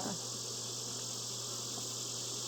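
Honey bees crowd the bottom of a hive box, their steady buzzing drone filling the whole stretch at a constant level with no talk.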